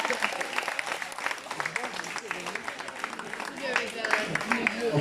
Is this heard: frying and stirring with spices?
no